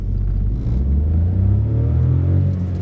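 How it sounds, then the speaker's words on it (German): Skoda Kamiq Style 1.0 TSI three-cylinder petrol engine, 85 kW, pulling hard from a standstill in a 0 to 100 sprint; a steady, loud, low engine drone rises slightly in pitch as the car gathers speed, heard from inside the cabin. "Da hört man den Dreizylinder."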